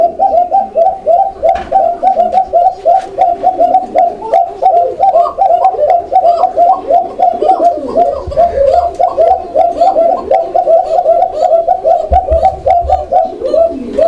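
Pigeons coo in a dense, continuous chorus, many birds close by repeating their low throaty calls in overlapping rhythm, loud and with no speech.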